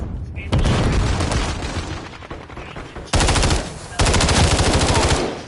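Bursts of rapid automatic gunfire in a team deathmatch of the video game Modern Warfare 3, loud and close, in two long sustained volleys with a short pause between and scattered shots before them.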